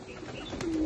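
A soft, low pigeon coo sounds briefly against a faint outdoor background, single and fairly close.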